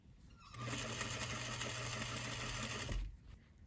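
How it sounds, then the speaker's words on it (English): A sewing machine runs in one steady burst of about two and a half seconds, stitching bias tape onto the neckline of an evening gown, close and even, with no talk. "I'm just going to start sewing this on to the garment."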